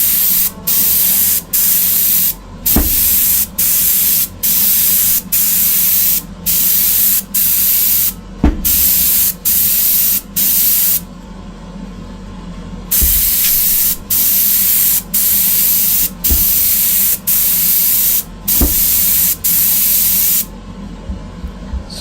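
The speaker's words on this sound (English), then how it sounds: "Something just blew out of this airbrush and it's spraying a lot better." Airbrush spraying paint for base coating Greek-style vases: a steady close hiss broken into repeated bursts of a second or two by short trigger pauses, with a longer gap midway, and no talking.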